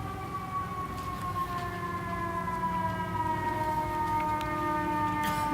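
An emergency vehicle siren wails steadily at a traffic incident management training facility, rising tones holding loud and continuous throughout with engine rumble underneath.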